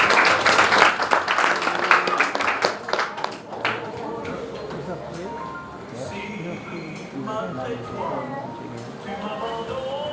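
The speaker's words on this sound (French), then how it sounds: "Applaudissez s'il vous plaît." At a wedding ceremony, the audience claps loudly after the ring exchange for a few seconds, then the clapping fades into voices and room murmur.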